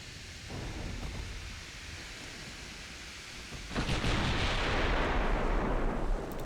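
Naval 5-inch guns fire in the 1920s warship game Ultimate Admiral, rolling booms rumbling low. The barrage swells sharply louder partway through and keeps thundering continuously.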